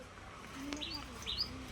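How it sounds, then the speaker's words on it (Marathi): A bird near a handmade birds' nest gives a few faint, thin high chirps, spaced apart over a quiet background. "बघा इथं पक्षी आलेला आहे, तो आवाज करतोय."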